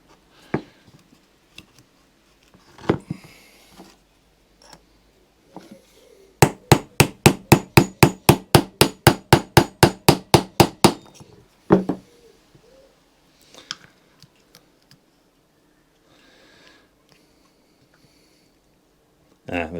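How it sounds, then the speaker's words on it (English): A small hammer taps out a roll pin on a Honda Pro lawn tractor gearbox during a Kaaz Lawnflight refurbishment, about twenty sharp, evenly spaced metallic strikes in a fast run, with a few scattered knocks and clunks before and after. "Not too big a hammer, Mick."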